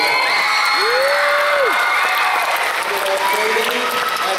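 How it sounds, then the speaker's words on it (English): An audience applauds a choir choreographer at a school honor choir event, steady dense clapping with some cheering and a few voices throughout. "let's give her a little round of applause."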